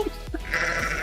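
A single sheep bleats close by, a short wavering call rising over a low hum of background noise, heard alone without any talking.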